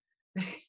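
A single short, sharp sneeze close to the microphone during a quiet webinar, bursting out of near silence.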